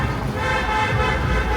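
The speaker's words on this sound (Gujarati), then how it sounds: "આખું મેલ્ટન રોડનું રોડ પર તો હોર્ન ઉપર હોર્ન વગાડે છે" Car horns blare on Melton Road, Leicester, as flag-bearing cars pass during a cricket celebration. Sustained overlapping horn tones sound close and loud over steady traffic noise.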